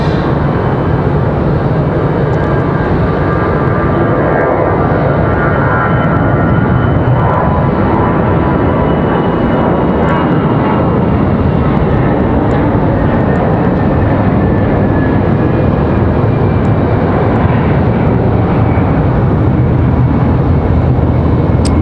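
An American Airlines jet at Raleigh-Durham International Airport roars loudly and continuously, a broad sustained engine rumble and whine filling the whole stretch without pause or talk.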